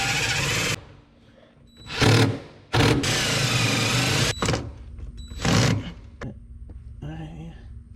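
Screws are driven into an RV holding-tank mount with a power driver inside a dark garage, making loud whirring bursts of the motor that start and stop several times, separated by quieter pauses and faint clicks.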